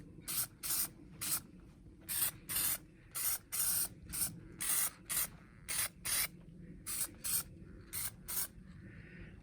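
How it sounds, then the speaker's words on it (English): Short bursts of black spray paint hiss from an aerosol can onto rusted model train terrain, about fifteen separate puffs in an uneven rhythm, close and fairly quiet. "I'm just taking some of the edge off the brighter rust with a little bit of extra black spray."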